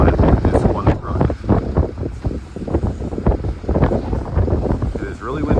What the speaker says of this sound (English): It is really windy out here today,